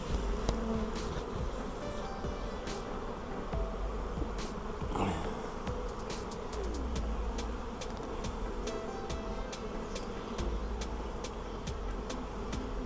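Honey bees buzzing steadily around an open hive beside a wall, with a drone emerging from a capped cell, a continuous close insect drone broken by occasional brief clicks and taps.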